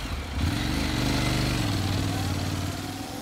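A motorcycle engine starts up and revs with a steady low throbbing drone, close and fairly loud, holding on as the bike pulls away.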